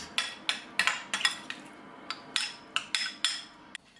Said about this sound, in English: a little bit of lemon juice. Give it a mix.